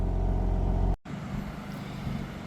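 A 2025 BMW M3 six-speed idling, a steady low engine burble. It cuts out sharply for an instant, then returns as a quieter, rougher idle.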